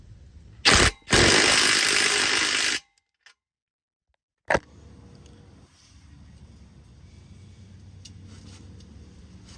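A hand tool bites on a 16mm exhaust clamp under a Ford Bronco during a turboback exhaust install: a short loud whirring burst, then silence, a single sharp click, and faint rattling afterward.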